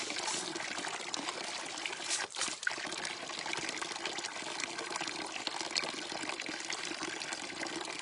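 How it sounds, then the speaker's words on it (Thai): Water runs steadily from a tap indoors, a continuous broadband splashing and trickling stream that stays even for about eight seconds, with one brief dip partway through and no talking. "น้ำมาจากกอกน้ำนะคะ"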